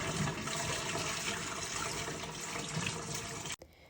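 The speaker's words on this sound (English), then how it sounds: "He first removed most of the water from the AV." Water pours steadily out of an equine artificial vagina in a lab after a stallion semen collection, a faint continuous splashing trickle that stops abruptly near the end, with no talking.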